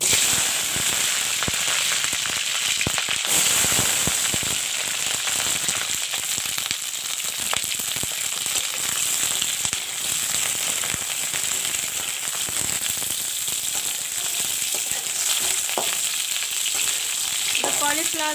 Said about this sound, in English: First I will fry the cauliflower.